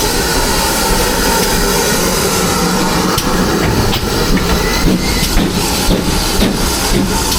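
A 100-year-old steam locomotive chuffs as it arrives, its steady broadband hiss and rumble filling the scene with faint rhythmic puffs near the end.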